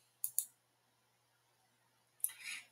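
Mouse clicks on a computer: a quick pair of sharp clicks near the start, then a louder click with a short rustle near the end, in a quiet room.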